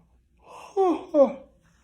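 A single drawn-out yawn with a rising, strained vocal tone that breaks into two voiced swells, close and fairly quiet, with no talking.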